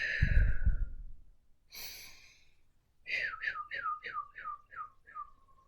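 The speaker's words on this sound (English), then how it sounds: "Taking nice deep breaths into that." Slow, deep breathing during a guided nervous-system reset, with a long airy exhale at the start, a sharp inhale, then a series of soft, rhythmically pulsing breathy whistles that fade out, close to the microphone.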